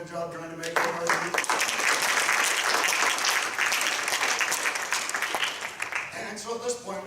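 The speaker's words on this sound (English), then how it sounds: "we should give a round of applause to John and Taylor" An audience at a university marijuana debate claps steadily and fairly loudly, a dense wash of applause that swells and then tapers, with a voice briefly at the start and end.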